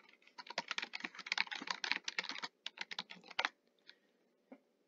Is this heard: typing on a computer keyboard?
yes